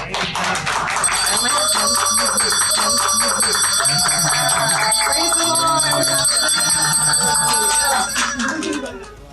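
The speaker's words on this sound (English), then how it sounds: "I ring this bell to thank God for helping me through this." A bell rung at the end of cancer treatment sounds in rapid, bright repeated strikes, sustained and loud, while people talk and cheer around it.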